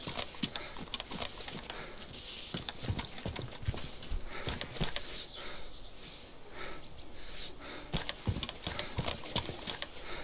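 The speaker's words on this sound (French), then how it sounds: "Par contre, je suis très attentif au bruit de pas." Footsteps in the survival video game DayZ, a steady run of soft clopping steps repeating across the clip over a noisy ambient bed, fairly close and moderately loud.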